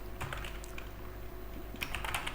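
Code is typed on a computer keyboard in quick, close key clicks, with a short pause in the middle, over a steady background hum.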